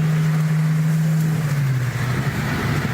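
A car engine with an aftermarket exhaust drones steadily up close, its low rumbling tone sagging slightly midway before holding again.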